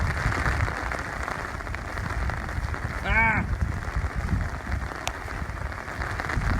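Heavy rain pours steadily in windy California weather, a dense continuous hiss of drops on surfaces throughout, with a person briefly exclaiming partway through.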